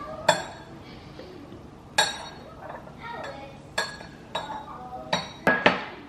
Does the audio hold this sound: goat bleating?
no